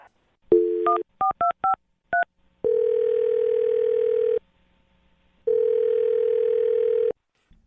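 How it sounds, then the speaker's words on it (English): A telephone handset plays a rapid series of touch-tone dialing beeps, then two long, steady ringback tones separated by silence, loud and close with no talking. "I'm going to dial his phone number right now"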